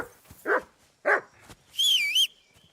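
A dog in Kingdom Come Deliverance 2 gives two short, loud barks, followed by a longer high whistling whine, all close by with no talk.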